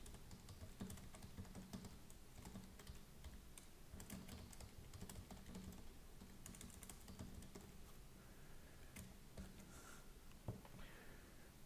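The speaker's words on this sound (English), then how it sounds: "I'm typing the email body." Rapid, uneven clatter of keys on a computer keyboard, close and fairly quiet, with occasional short pauses between bursts of typing.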